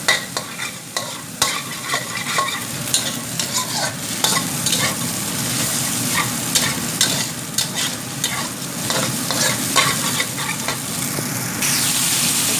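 An egg fries in a hot pan with a continuous crackling sizzle, close and busy, with occasional scraping stirs and no voices.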